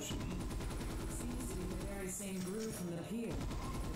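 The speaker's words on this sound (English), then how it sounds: "Grenade launcher, ow." Grenade launcher blasts and gunfire from the video game Ghost in the Shell: Stand Alone Complex. A dense, continuous barrage of shots runs under loud game music and effects throughout.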